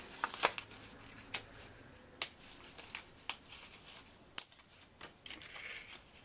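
Card stock being cut to make flippy specimen cards, a close run of irregular crisp snips and rustles of paper, some sharper than others, with no talking.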